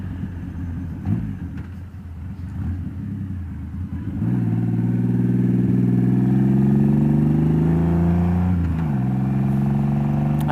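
A 2014 Triumph Rocket 3 Roadster motorcycle under way: a deep, loud engine drone climbs in pitch through a gear, dips briefly at a shift, then rises again, heard close over wind noise.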